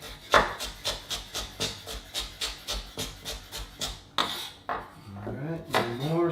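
A knife chopping carrots on a cutting board, a quick steady run of about fifteen close, crisp knocks, then a pause and a few more cuts as a voice briefly speaks.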